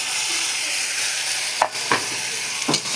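Onions fry in oil with ginger-garlic paste, bay leaf and dried and green chillies, giving a loud, continuous sizzle close by, broken by a few quick stirring scrapes near the end.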